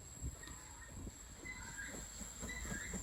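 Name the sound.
steam locomotive Goliath moving on the Paignton to Dartmouth line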